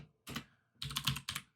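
Short bursts of typing on a computer keyboard, close and quiet: one quick cluster of clicks, a pause, then two more rapid runs of keystrokes, heard alone without talk.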